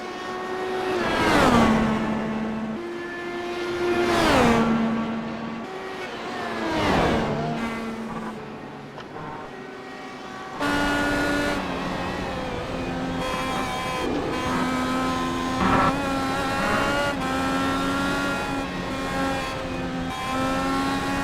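Race cars on a track: several engines roar past in quick succession, each rising and falling as it goes by, then a louder, steadier engine drone continues with gear changes for the rest of the stretch.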